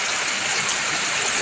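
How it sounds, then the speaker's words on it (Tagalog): Heavy rain during flooding, a dense, loud, steady hiss of pouring water filling the scene without pause and with no voices. "Grabing ulan, sobrang lakas."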